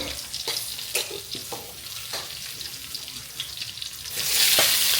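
Dried red chillies frying in hot oil: a steady crackling sizzle with occasional stirring taps, swelling into a louder, brighter hiss in the final second.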